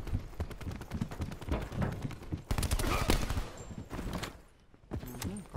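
Rapid gunfire in Call of Duty Black Ops 4 multiplayer, with loud sustained bursts and single shots cracking almost continuously, mixed with game effects and brief pauses.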